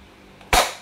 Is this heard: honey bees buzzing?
no